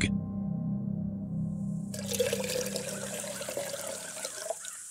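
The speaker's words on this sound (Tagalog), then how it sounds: "Ikinuha ko siya ng isang basong tubig." Water pours into a drinking glass, a close, steady trickling splash that brightens and rises after a couple of seconds and continues to the end, alone and fairly quiet.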